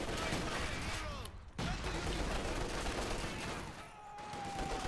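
Sustained automatic fire from MP40 submachine guns and LMG machine guns in a World War II strategy video game battle, dense overlapping bursts filling the clip with brief lulls.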